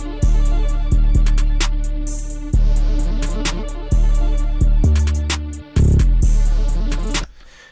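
A punchy electronic drum beat repeats in a steady loop: heavy kicks, crisp snares and hi-hats, with a brief stutter near the end before stopping.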